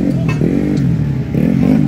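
Modified drag-race motorcycle engine revving close by, a steady loud mechanical drone with slight rises and dips through its short length, no talk over it.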